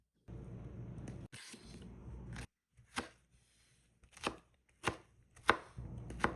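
A knife chops cauliflower finely on a board: a dense burst of rapid cuts, a pause, then several separate, sharp chops spaced about a second apart, close and clear with no talking.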